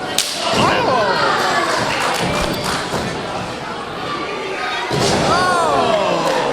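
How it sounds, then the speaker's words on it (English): Sharp chop strike landing in a wrestling match between Isaiah Quinn and Luke Jacobs, a loud slap-like crack near the start and another around five seconds, set against a steady roar of an excited arena crowd with commentary. "One of the most deadly moves, underappreciated moves is the chop, but it gets the job done."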